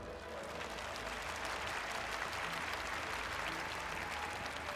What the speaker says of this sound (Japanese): 私が栄唱している間助けてくださる方、拍手をお願いします。